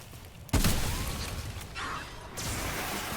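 A sudden loud blast in the third-person shooter Remnant: From the Ashes, followed by dense crackling debris and lingering rumble, with a second wave of noise swelling a couple of seconds later.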